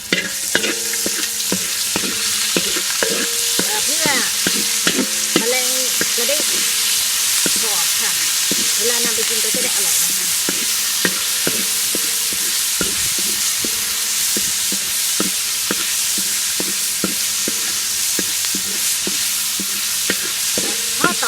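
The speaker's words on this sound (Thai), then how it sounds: "จากนั้นเราก็ทำการคั่ว มะเร็งจี้ป่มต่อไปเรื่อยๆ จนน้ำหมดนะคะ" Mangji insects stir-roasted in a pan with a little oil give a steady, close sizzle and hiss for about twenty seconds, broken by frequent scraping and clacking from the stirring utensil against the pan.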